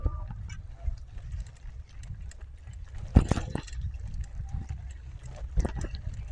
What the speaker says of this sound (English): You can see there are lots of geese